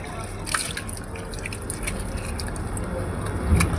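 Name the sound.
water being poured while scrubbing a car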